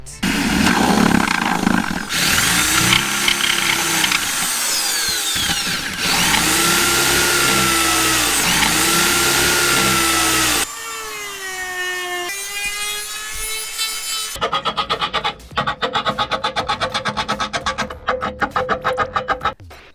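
Power tool cutting an exhaust hole through a small van grill for a 5 kW diesel heater, loud continuous rasping passes broken by pauses, with pitch shifts and a rapid chattering burst near the end.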